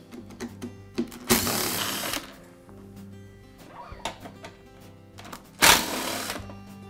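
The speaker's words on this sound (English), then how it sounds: "I'll begin by removing the motor housings. They're held in place with a series of screws." Screws being removed from the motor housing of a DeWalt air compressor, with a series of small clicks and taps and two sharp bursts of hiss, close and fairly loud against faint machine hum.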